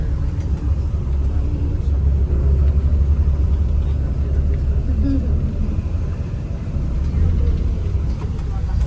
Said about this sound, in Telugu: bus coming, bus coming, bus coming